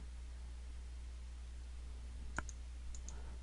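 A computer mouse clicks once, sharp but faint, then gives a softer double tick a moment later, over a steady low background hum.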